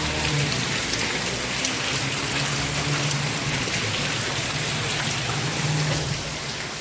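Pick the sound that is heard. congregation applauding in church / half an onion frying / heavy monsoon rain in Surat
heavy monsoon rain in Surat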